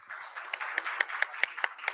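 Applause at a municipal fire services event in Pimpri Chinchwad: a short burst of about ten distinct, evenly spaced claps, crisp and close, over a soft background murmur.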